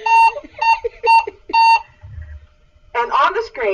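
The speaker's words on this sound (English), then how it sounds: "You turn it on and you're probably going to hear a lot of beeping noises and sounds as it sort of gets acclimated" A detector beeps on power-up with four evenly spaced electronic tones, then a short pause and a warbling chirp, close and loud.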